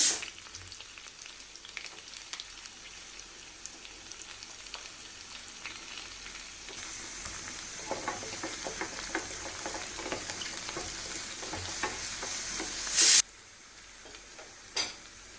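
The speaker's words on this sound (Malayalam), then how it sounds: "ഞാനിതിലേക്ക് കൊച്ചുള്ളി ചേർത്ത് കൊടുക്കുകയാണ്." Shallots and mustard seeds fry in hot oil in a pan, giving a steady crackling sizzle that grows busier partway through. Brief clatter and stirring noises break in near the end, with no talking.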